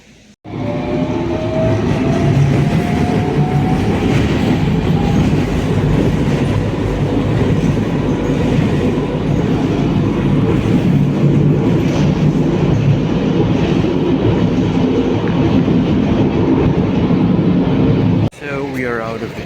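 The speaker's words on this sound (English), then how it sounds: "the tram is coming, guys, slowly but surely." Tram arriving and passing close by, a loud sustained rumble with rail clatter lasting most of the clip before cutting off abruptly.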